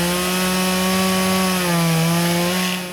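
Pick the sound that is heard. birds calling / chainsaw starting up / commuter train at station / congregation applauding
chainsaw starting up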